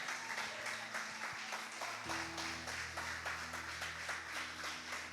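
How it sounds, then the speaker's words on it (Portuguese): A church congregation claps along during a worship service, a steady wash of hands filling the room over a sustained low hum of music or organ, continuous and moderately loud throughout. "Quem crê nisso, aplauda ele bem forte"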